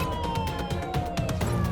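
An ambulance siren from a video game trailer wails steadily and loudly over a rumbling engine and road noise, with a repeating sweep that fills the whole moment.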